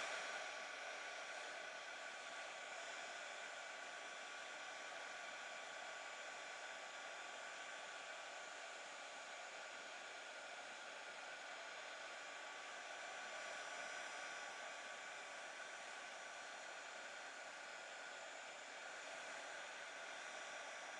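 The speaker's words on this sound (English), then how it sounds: "So we're just going to heat the embossing powder." A heat tool melts embossing powder on a steampunk spellbook cover, blowing a steady, even hiss of air that stays unbroken throughout without any talk.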